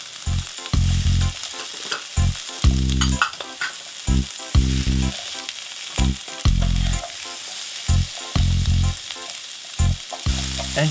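Zucchini and pepper sizzle in a frying pan as a one-pan salmon, vegetable and gnocchi dish is cooked, with a steady hiss broken by repeated low thumps and scrapes of stirring, close and fairly loud, no voices.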